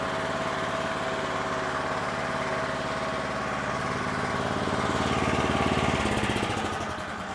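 A Predator 459cc small gasoline engine runs steadily close by, a loud, even chugging drone with a faint rise in revs near the end.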